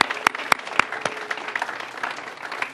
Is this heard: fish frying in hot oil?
no